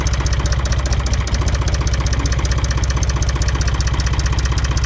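An International 484 tractor's diesel engine idles steadily with a rhythmic, slightly uneven knock from a faulty number 2 injector, loud and close with no talk.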